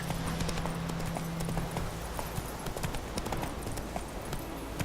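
Roach, a horse in The Witcher 3, gallops at a steady pace, her hooves drumming in a quick, continuous clip-clop rhythm that stays loud and close throughout.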